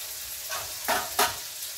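Fenugreek seeds spluttering in hot oil, a continuous bright sizzle broken by two sharp, loud crackling pops close together, with no voices.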